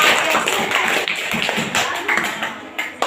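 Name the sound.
applause for a student group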